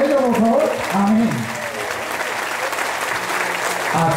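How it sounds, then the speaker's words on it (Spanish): Audience applause at a church mission for evangelization and healing, steady broadband clapping throughout with a voice speaking over it at the start. "Un aplauso para ella, por favor."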